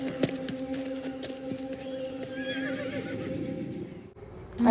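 A horse whinnies loudly and close near the end of a quiet TV drama scene, after a low background hum with a few faint knocks.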